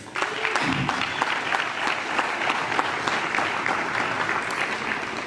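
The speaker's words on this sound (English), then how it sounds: "I think we must give you a big round of applause." Sustained applause from an audience at a municipal gathering, a broad, even roar of many hands with a brief voice at the start and a few scattered voices underneath.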